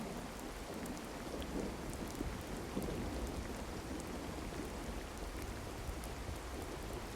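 Steady rain falls in the tropical island survival video game Card Survival: Tropical Island, a dense, continuous hiss with soft low rumbling underneath, heard alone at a constant moderate level.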